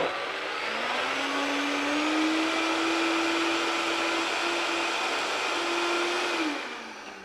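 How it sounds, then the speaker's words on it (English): A kitchen blender whirs steadily while blending vegan pumpkin pie filling, a loud continuous motor drone that holds an even pitch for several seconds before winding down at the end. "Ooh, I almost started blending that without putting the lid on."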